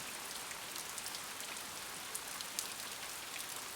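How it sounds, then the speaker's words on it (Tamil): Heavy rain pours steadily and unbroken, a dense, even hiss of drops hitting surfaces with no voices, filling the scene from start to finish. "மழையும் நிக்காம ஜோரா அடிச்சுட்டே இருந்தது"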